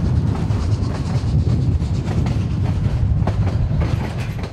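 A historic Cumbres & Toltec Scenic Railroad train in Colorado rumbles steadily along the tracks, loud and close, with a continuous low roar and faint rhythmic clacking of wheels.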